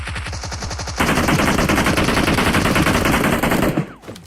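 Sustained automatic gunfire in the battle royale game PUBG Mobile, starting with a few spaced shots, then a dense continuous burst for about three seconds before it cuts off, loud and close.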